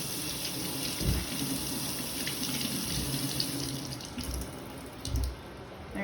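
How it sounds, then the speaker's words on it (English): A rotary pad is rinsed under a running tap, giving a steady, close rush of water into a sink with a few louder splashes as the pad moves through the stream. "And then I'm just rinsing it off."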